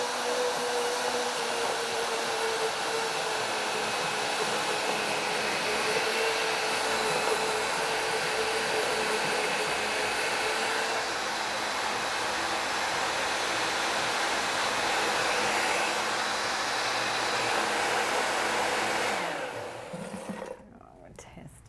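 A blender with its lid on chops fresh cilantro in one steady, loud whirring roar lasting about twenty seconds, then it winds down and stops near the end.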